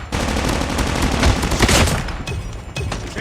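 Dense gunfire in COD Mobile on the Tunisia map, a loud sustained burst of rapid shots with booming low end, continuous for about two seconds before slightly thinner firing continues.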